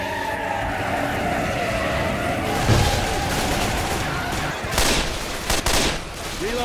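Incendiary-round gunfire in the Left 4 Dead 2 zombie shooter, a dense continuous barrage of shots layered over game noise and chaotic effects, loud and close, with sharper bursts near the end.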